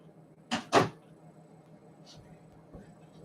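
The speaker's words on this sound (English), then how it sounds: "I'm going to close the door." A door is pushed shut indoors with two quick, loud thuds close together, followed by a quiet room and a faint small knock.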